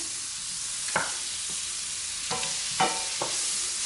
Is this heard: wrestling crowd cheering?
no